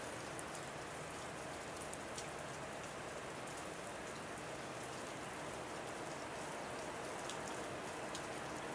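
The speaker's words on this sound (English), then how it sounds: "It's been raining for 3 days" Steady rain falling on surfaces outdoors, a dense continuous patter with scattered nearer drops, heard alone with no voices, during a stretch of windy, foggy weather on the road to Liguria.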